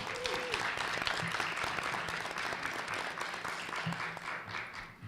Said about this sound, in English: Please join me in a round of applause for our expert judging panel for the 2022 Big